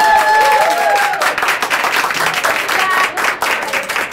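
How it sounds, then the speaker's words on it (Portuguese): A crowd at a company get-together claps loudly and steadily, with some voices and tonal sounds mixed in near the start before the clapping dominates. "Vamos aplaudir."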